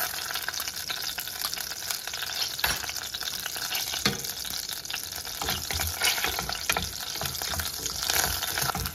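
Mustard seeds, cumin and garlic fry in two spoons of hot oil for a spinach dal, a steady, dense crackling sizzle throughout with occasional spoon scrapes, close and alone.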